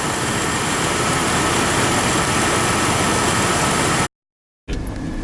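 Jeep LJ with a 4.0 engine running after a spark plug change, a loud, steady, close engine drone that cuts out abruptly near the end, then resumes more faintly.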